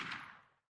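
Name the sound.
gunshot sound effect from the video game 428: Shibuya Scramble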